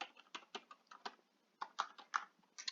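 Password being typed on a computer keyboard: quick clusters of light plastic key clicks in irregular bursts, close and fairly quiet, with brief pauses between runs of keystrokes and no talking.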